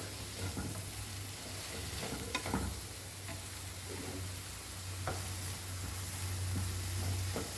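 Mixed vegetables for Goan-style vegetable pulao fry in a pan: a steady, moderate sizzle runs throughout, with occasional scrapes and light clinks of a spoon stirring close by, no voices.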